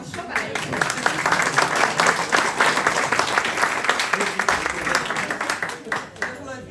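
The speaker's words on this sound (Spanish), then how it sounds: "Así que un aplauso para ellos." Audience at a history talk claps for the Alzuaz family in the front row, strong irregular clapping that swells and then tapers off, with speech mixed in.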